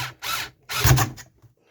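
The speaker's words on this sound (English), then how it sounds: "I've actually now swapped to a 4mm drill." A 4mm bit drills burner holes in an aluminium drink can for a two-can penny stove: two close, whirring bursts of about half a second each, with no talk.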